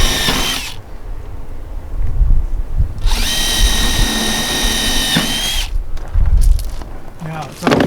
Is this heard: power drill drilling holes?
yes